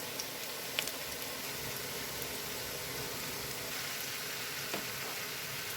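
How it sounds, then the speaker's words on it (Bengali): Onions frying in a pan for a tengra fish curry, a steady soft sizzle with faint crackles running evenly throughout, close and fairly quiet, with no talk. "এখানে আমার পেঁয়াজটা ভাজা হয়ে গেছে"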